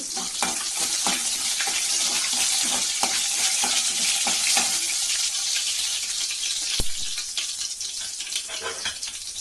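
Spices sizzle loudly in hot oil for a Tamil mutton chukka, a dense, steady crackle with scattered sharper pops and occasional stirring scrapes, close and continuous throughout.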